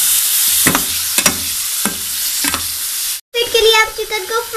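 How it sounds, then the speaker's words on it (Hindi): Food is stirred and mixed in a hot pan with rhythmic scraping strokes about every half second over a loud, steady sizzle, followed by a brief pause and then bubbling frying, close up and with no talking. "अब इसको अच्छी तरह मिक्स करेंगे।"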